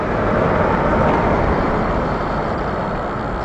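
An Oldsmobile 442 on the road gives a loud, steady rumble of engine and road noise that holds constant with no breaks, heard close from inside the car.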